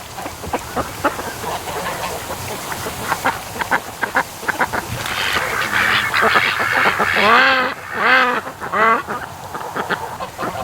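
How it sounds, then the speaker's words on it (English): Several ducks quack loudly and close by, overlapping calls in bursts over a windy outdoor background. "There's some pretty ducks."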